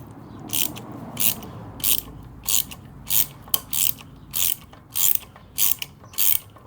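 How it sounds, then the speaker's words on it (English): A thread chaser ratchets through the front wheel threads of a Harley, giving ten short, evenly spaced bursts of dry clicking about every half second, close and clear over a quiet background with no talk. "I'm definitely doing the thread chaser"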